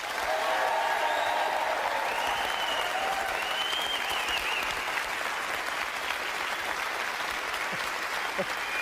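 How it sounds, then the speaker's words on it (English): A large live television studio audience in Edinburgh applauds steadily and loudly, with cheers and whoops rising above the dense clapping and a voice audible underneath. "Give yourself a round of applause, the audience!"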